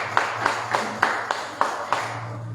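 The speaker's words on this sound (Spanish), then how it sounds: "Un aplauso para José Luis." A church congregation at an evangelical service claps for José Luis in a steady rhythm of sharp claps, about three to four per second, over a low hum.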